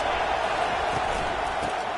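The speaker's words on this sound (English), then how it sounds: "It is getting loud as this crowd tries to help its defense." Roar of a stadium crowd at a college football game, a dense, sustained wash of noise building as fans try to help their defense, with no gaps.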